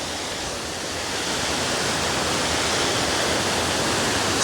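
Little Shickshinny Falls on Shickshinny Creek in Shickshinny, Pennsylvania rushes with a broad, constant roar of falling water, close and loud, swelling slightly toward the end.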